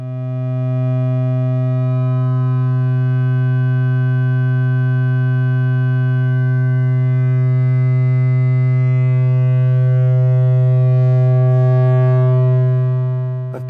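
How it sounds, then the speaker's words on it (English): Synthrotek Verb Eurorack modulated resonator holds a steady, loud drone with a dense stack of harmonics; as its mod control is changed, upper overtones shift and shimmer while the low fundamental stays constant, then it fades out at the end. "I'm going to set up a drone, and then start playing around with the mod control."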